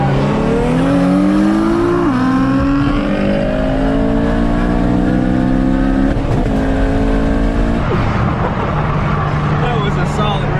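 Street race vehicles launch and accelerate hard, engines climbing through several gear shifts, loud and near, with a voice briefly heard over the roar.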